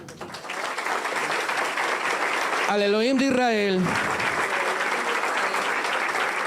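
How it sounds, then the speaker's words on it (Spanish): A conference audience applauding loudly and continuously, with a singing voice rising briefly over the clapping partway through. "Demos un fuerte aplauso"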